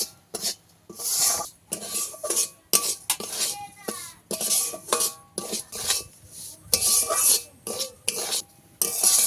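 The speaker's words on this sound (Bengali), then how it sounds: "কমিয়ে দিয়ে 7-8 মিনিট এইভাবে নেড়ে চেড়ে একটু ভেজে নিতে হবে।" A spoon scrapes and clinks against a pan as semolina is stirred and fried, in a loud, irregular rhythm of bursts and pauses, with no speech.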